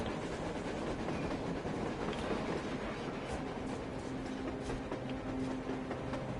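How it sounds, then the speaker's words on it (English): A train approaches on the surface in the video game Metro Exodus, a faint, distant low rumble with soft rhythmic clacking and humming tones, steady throughout with no talk. "A train! A damn train on the surface!"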